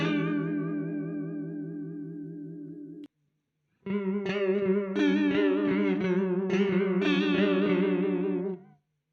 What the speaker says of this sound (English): this is the chorus.